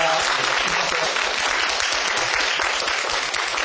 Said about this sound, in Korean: 천규승 박사님께 다시 한번 감사의 박수 부탁드립니다.